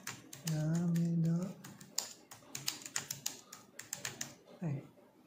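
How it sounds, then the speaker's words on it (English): Keys tapped on a Bluetooth keyboard paired with an Infinix Hot 10 Play phone, a quick irregular run of light clicks following a brief stretch of voice; a person talks nearby. "So if the mouse is working, then let's try the keyboard. So let's type in the middle."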